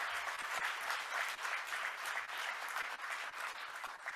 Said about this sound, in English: And so give them a round of applause,